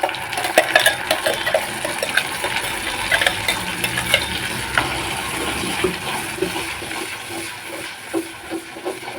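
Garlic with ground onion and tomato paste sizzles and bubbles in a pan for a spicy Indian fish curry, with irregular clinks and scrapes of a spoon stirring against the metal, close and continuous.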